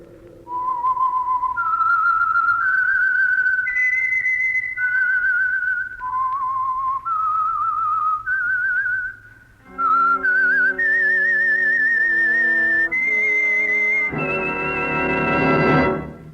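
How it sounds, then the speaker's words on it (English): A lone whistler performs the eerie, wandering theme of the old radio mystery show The Whistler, holding clear sustained notes that climb and fall, loud and close with no other sound. "That whistle is your signal for the Signal Oil Program, The Whistler."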